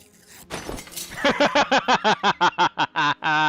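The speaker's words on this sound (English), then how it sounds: "That better not have been the set of my stained glass window breaking." A stained glass window shatters in Deponia: Doomsday: an initial crash of breaking glass, then a run of about a dozen bright, ringing tinkles and clinks falling in quick succession, close and clear.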